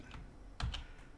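A computer keyboard being typed on at close range, a few soft, separate key clacks with one firmer tap, quiet and with no voices.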